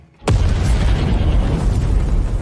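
A sudden loud explosion from a war film bursts out after brief silence, followed by a heavy rumbling roar that lingers.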